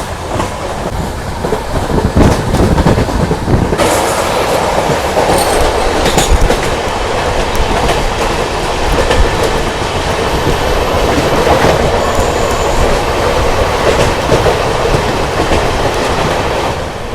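A moving passenger train in Gujarat, India clatters steadily along the rails, loud and close from inside a first-class coach, with a rhythmic clickety-clack, occasional sharp knocks and faint wheel squeal, no voices.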